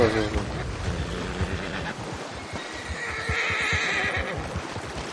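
Horse neighing with clip-clopping hooves in the Red Dead Online video game, a loud whinny at the start followed by steady hoof beats, with a voice talking over them.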